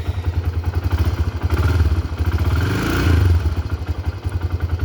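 A Honda 300EX ATV engine runs at a steady idle nearby, a low throbbing putter with a slight swell in revs midway before settling back, no talking over it.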